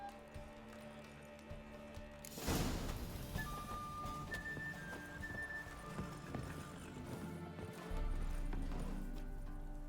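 Horses clip-clop at a trot during a race in The Witcher video game, hooves thudding in a steady rhythm beneath swelling orchestral music, with a brief whinny and a louder rush at the start.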